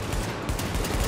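Suppressed weapon fire in the video game The Division comes as a rapid, dense string of muffled shots, steady and close, filling the whole short moment without any voices.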